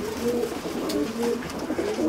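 Pigeons at an ornamental pigeon show coo repeatedly in soft, throaty rolling phrases, close and fairly loud, with several birds overlapping in a continuous murmur.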